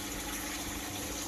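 Main circulation pump of a goldfish and koi breeding pond running, with a steady, dense rush of flowing water filling the sound evenly from start to end.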